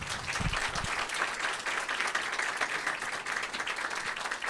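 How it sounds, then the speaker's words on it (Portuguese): Dense, steady applause fills a city council chamber during an honorary ceremony, the crowd clapping continuously at even volume, with a few low thumps near the start. "Uma salva de palmas."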